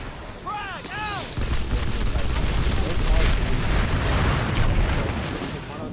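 Frag grenade explosion and gunfire in the video game PlanetSide 2, a dense, loud, continuous battle roar with booming blasts and rapid shots, voices talking briefly near the start.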